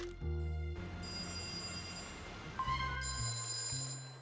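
A telephone line rings out with no one picking up, a repeating electronic ring tone sounding clearly over soft background music, with no voices.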